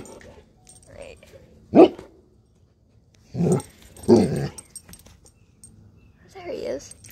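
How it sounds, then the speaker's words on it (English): A dog in a backyard gives a few short, gruff barks at a turtle, with pauses between them, fairly close, with a low growly edge. "Poor turtle's being barked at"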